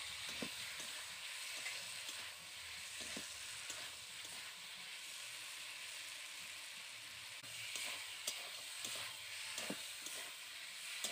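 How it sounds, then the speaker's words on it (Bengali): Boiled taro and fried apple snails sautéed together in a pan, making a faint, continuous frying hiss with soft intermittent scrapes and stirring knocks. "এবার ভালো করে কচু আর গুগলি একসাথে কষিয়ে নেব।"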